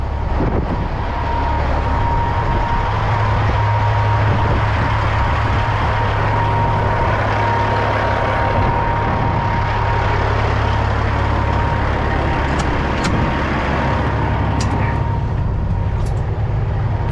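A bulk fertilizer tanker truck's engine runs steadily with its PTO pump engaged, a loud continuous low drone with a faint whine throughout and a few sharp clicks near the end, with no talking.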